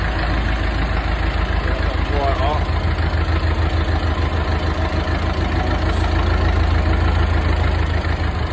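A vehicle engine idles steadily while a fallen tree is being removed, a continuous low rumble running close and loud through the whole stretch, with voices occasionally speaking over it.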